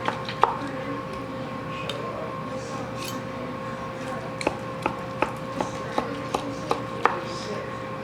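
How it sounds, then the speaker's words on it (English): A knife slices through tender cooked pork loin fresh from a crock pot, giving a run of crisp, evenly spaced cutting taps against a board, close and fairly loud, with no talk. "So now I took it out of the crock pot and I'll slice it."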